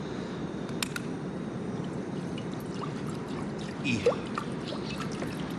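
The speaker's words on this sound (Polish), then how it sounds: "I teraz muszę w garnku zagotować trochę wody," Water is poured into a cooking pot outdoors on a windy day, a continuous close splashing stream that runs steadily for several seconds with a brief louder gurgle near the end.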